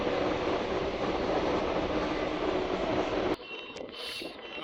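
A train running through a tunnel makes a loud, dense, steady roar that drops abruptly near the end as the train leaves it.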